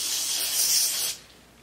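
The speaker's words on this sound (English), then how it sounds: "So I'm just going to spray it with Lysol" A can of Lysol disinfectant sprays onto a towel in one steady, close hiss lasting about a second, then cuts off into quiet room noise.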